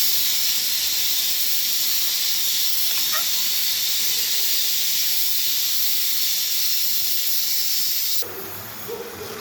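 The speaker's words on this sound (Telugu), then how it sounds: "ఈ కంద ముక్కలు వేసేసుకోండి. చక్కగా వీటిలో అంతా కలిసిపోయేలా కలుపుకొని" Elephant yam pieces sizzle steadily in a hot tempering for kanda pulusu, a loud continuous hiss that drops off abruptly near the end as they are stirred in.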